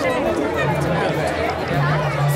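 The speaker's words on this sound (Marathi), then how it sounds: "खूप जास्त गर्दी" Dense crowd chatter at the Panvel Festival, a steady close babble of many voices with no pauses.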